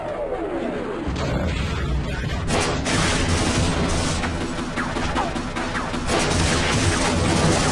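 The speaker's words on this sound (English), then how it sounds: "I'll keep my Gauss Cannon out for this one" Gauss Cannon gunfire in the Half-Life video game fills the clip with dense, loud, continuous blasts and crashing noise, and one sharper burst of energy stands out partway through.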